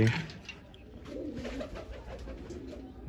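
A flock of kept pigeons coos, some twenty-five or more settled close together, a soft continuous murmur with a sharp knock right at the end.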